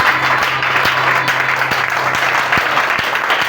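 A standing congregation at a church youth seminar applauds Jesus in loud, continuous, close applause, with a faint steady hum and regular soft thumps beneath it.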